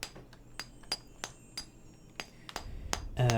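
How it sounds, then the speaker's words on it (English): Hammer and chisel tapping against a stone wall in a fantasy role-playing video game, about eight sharp metallic clinks spaced at an uneven rhythm, close and clear, ending in a heavier rumble as the wall begins to give way. "Use hammer and chisel."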